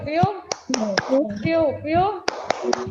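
Children play the Tepuk Papua clapping game in an online primary-school class. Sharp, rhythmic claps fall in a patterned beat while a voice chants along between them, close and clear.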